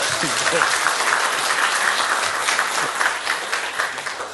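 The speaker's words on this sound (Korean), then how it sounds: "박수 한번 부탁드리겠습니다." Steady, full applause from a startup forum audience in Gwangju, a continuous wash of many hands clapping at moderate volume throughout.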